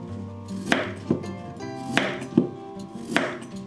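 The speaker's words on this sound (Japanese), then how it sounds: "おじゃが、切れましたが、" A knife chops potatoes for nikujaga on a board, six distinct thuds spaced irregularly over a few seconds, close and fairly crisp, with no talking.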